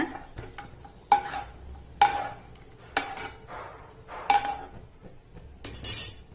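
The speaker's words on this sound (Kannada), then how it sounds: "ಇವಾಗ ದ್ರಾಕ್ಷಿ ಕೂಡ ರೆಡಿ ಆಯಿತು. ಇದನ್ನು ಕೂಡ ಒಂದು ಬಟ್ಲಿಗೆ ತೆಗೆದಿಟ್ಕೊಳ್ಳೋಣ." Ghee-fried raisins are scooped into a bowl for carrot sabbakki payasa, with about five sharp, bright clinks of metal on dish spaced roughly a second apart in a quiet room.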